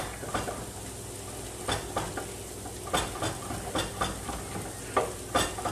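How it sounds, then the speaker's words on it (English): Red onion and garlic sizzle in a hot, oiled wok, with a steady frying hiss broken by repeated stirring scrapes and clinks of a utensil against the pan. "the red onion goes right in with the garlic"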